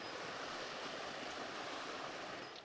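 A small stream, the upper Somme, flows in a steady, close, broadband rush of water, unbroken for a few seconds with no voices.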